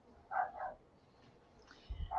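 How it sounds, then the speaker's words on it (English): A dog barking faintly in the distance, two quick muffled barks followed by another after a pause, quiet and far off. "Is that your dog barking or mine?"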